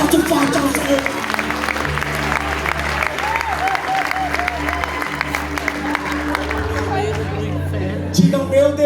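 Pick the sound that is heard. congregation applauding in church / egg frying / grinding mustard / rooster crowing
congregation applauding in church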